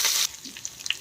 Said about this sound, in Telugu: ఇప్పుడైతే పోపు గింజలు వేగనిద్దాం.